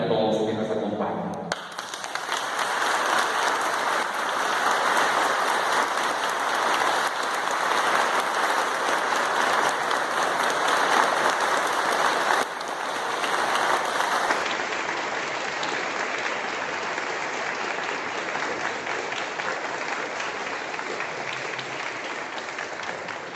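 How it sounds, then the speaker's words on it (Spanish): Loud, sustained applause from a church congregation welcoming people to a celebration, steady dense clapping with crowd noise lasting the whole stretch, no speech over it. "así como se oyó este fuerte aplauso"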